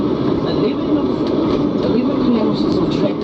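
The Overlander passenger train climbs the Raurimu Spiral, heard as a loud, continuous rumble of wheels and engine with a steady rolling roar and no breaks.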